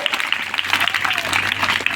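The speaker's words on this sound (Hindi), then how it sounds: "इसके लिए एक बार अपने लिए जोरदार ताली बजाओ।" An audience claps at a girls' school youth seminar in India, a dense patter of many hands sustained at an even, moderately loud level with no voices over it.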